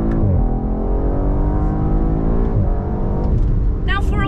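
Audi RS4 wagon in RS mode accelerating hard, the engine note climbing steadily in pitch with a brief shift dip midway, loud and close from inside the car.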